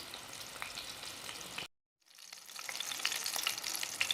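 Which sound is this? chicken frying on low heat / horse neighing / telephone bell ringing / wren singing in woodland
chicken frying on low heat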